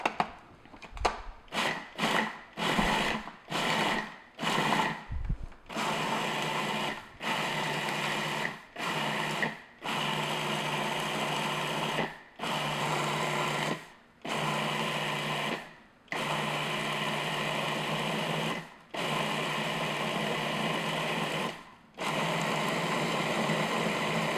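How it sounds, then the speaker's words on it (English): A food processor pulses dry ingredients for date squares until crumbly, a rapid run of short bursts that slows into longer evenly spaced whirs separated by brief silences. "we're just going to pulse until the mixture is crumbly"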